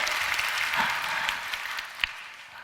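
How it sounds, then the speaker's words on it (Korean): A congregation at a prayer meeting gives a round of applause, a soft wash of clapping that thins out, with one sharper clap standing out near the end. "박수까지요? 확실히 쳐주세요, 그러면."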